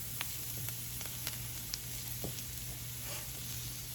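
Vegetables sauté in a hot pan for salmon and shrimp pineapple bowls, giving a steady soft sizzle with a faint low hum beneath and a few light clicks from stirring.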